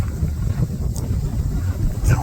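Cold wind buffets the microphone outdoors on a fishing trip, a steady low rumbling roar with gusty swells throughout and no clear voices.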